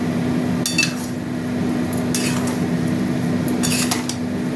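A cabbage and pea curry is stirred in a pan, giving a few metallic scrapes and clinks of a utensil against the pan over a steady low hum. The sound is close, and no one speaks.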